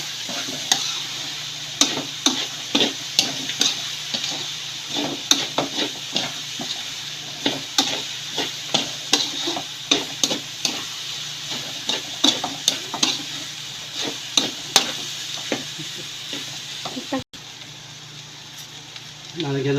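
Pork sisig frying in a pan is stirred, with steady sizzling and repeated scraping clicks of a utensil against the pan throughout, close and fairly loud, briefly quieter near the end.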